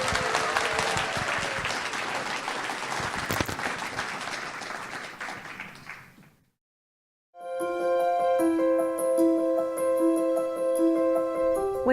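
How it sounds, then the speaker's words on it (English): Audience at an awards ceremony breaks into loud sustained applause for honorees, dense clapping for about six seconds that fades to silence before music starts. "Please join me in a round of applause for Clint Scott and John Bromberg"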